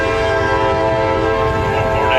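A freight train rolls steadily toward a downtown Plant City crossing with its horn sounding loudly and continuously throughout, alongside the rumble of the moving cars.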